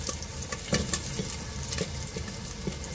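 Pork fat renders in a pan with garlic frying in it, a steady close crackling sizzle with occasional pops and stirring scrapes throughout.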